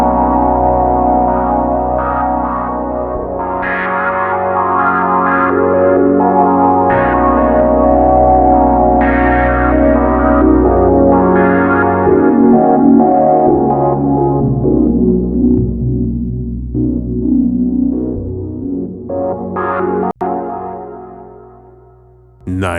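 A Cherry Audio PolyMode synth plays sustained, chorused chords with random modulation shape, the tone wavering and shifting in texture, loud and alone before fading near the end.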